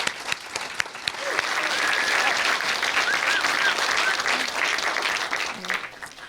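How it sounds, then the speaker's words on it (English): Steady applause from an audience at a 2019 film festival awards ceremony, dense and sustained across the whole stretch, with a few faint voices mixed in beneath the clapping. "let's give them a round of applause for bringing awareness to us"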